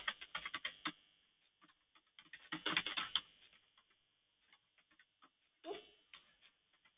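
Keys clatter on a computer keyboard while someone types a phone number into a property software form: quick, uneven bursts of close clicks, with a dense flurry near the start and another midway, then sparse single taps.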